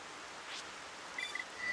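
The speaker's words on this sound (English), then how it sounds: "Oh, it's raining, so the wisps aren't even gonna be out." Soft, steady rain hiss from the Gaur Plains in the video game Xenoblade Chronicles, a faint even wash of noise with a few small tonal blips near the end.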